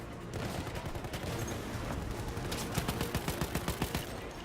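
Dense, continuous gunfire in a Battlefield video game on the Brusilov Keep map, with rapid machine-gun bursts and overlapping distant shots forming a steady fusillade that grows into sharper, rhythmic bursts near the end.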